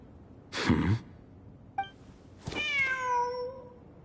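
Cat meowing in the video game Genshin Impact, a single clear drawn-out meow preceded by a breathy puff and a short chirp, close and alone in otherwise quiet surroundings.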